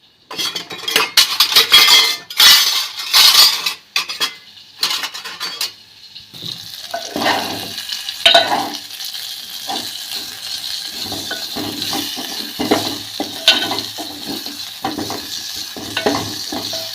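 Leftover chicken fry being reheated and stirred in a pan: a spoon scrapes and clinks against the metal in busy bursts, then a softer steady sizzle continues with occasional stirring knocks, close and clear.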